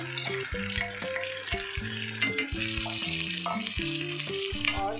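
A spice mixture is tipped into a hot pan for a surmai fish dish and fries with a continuous crackling sizzle and occasional stirring, heard close under rhythmic background music.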